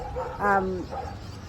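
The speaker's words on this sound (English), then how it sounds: "those dogs, they're so annoying, they're making so much noise." Several dogs in a village give a short yip and bark with a whimpering tone, fairly near, over a steady background hum and some noise.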